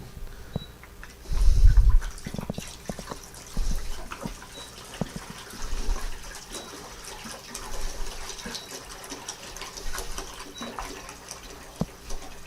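Tap water pours into a pot to fill about a gallon for brandy making, a splashy gushing with uneven surges and pauses, close by and with no talking.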